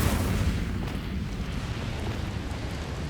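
Incendio fire spell cast in Hogwarts Legacy, a loud continuous whooshing roar of flame with dense low rumble that holds steady for about three seconds, no voices.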